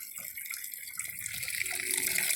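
Engine coolant drains from a Ford 6.7L Super Duty into a bucket, a soft continuous trickle and splash that stays fairly quiet and steady throughout.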